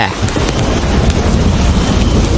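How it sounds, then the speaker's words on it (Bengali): Heavy rain pours down in a violent village thunderstorm, a dense continuous roar with wind gusts and low rumbling, with no separate thunderclap standing out. "দেখছো না কি জোরে জোরে বজ্রপাত করছে"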